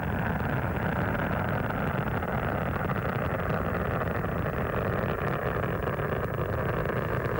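Space Shuttle Atlantis main engines roaring during launch, a loud continuous broadband rumble with crackling distortion that holds steady throughout with no letup.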